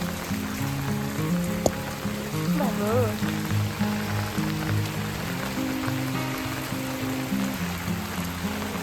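Steady monsoon rain in Pune patters on surfaces while a person talks over it, the wet hiss continuing throughout.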